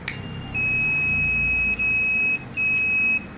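A buzzer on an Arduino ESP8266 fire alarm security system sounds in loud, piercing electronic tones, held steadily with two brief breaks, over a quiet background hum.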